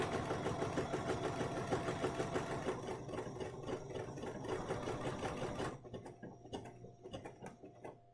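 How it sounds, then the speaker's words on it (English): A Bernina sewing machine stitches a single scallop, running a steady, rapid mechanical whir for several seconds before slowing into separate clicking stitches near the end, close and loud with no voice. "We're going to stitch 1 scallop so that I can show you what it looks like."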